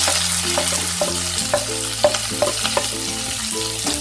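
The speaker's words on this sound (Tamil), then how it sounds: "கருவேப்பிலை, வெங்காயம் போட்டுக்கலாம்." Curry leaves and onion frying in a pan for masala dosa filling, a close bright sizzle with repeated clinking stirs of a spatula against the pan.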